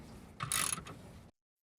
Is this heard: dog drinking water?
no